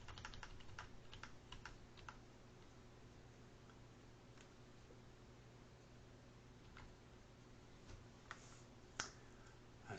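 Scattered key clicks from a computer keyboard, taps spread irregularly over a steady low hum, fairly quiet and close, with no talking.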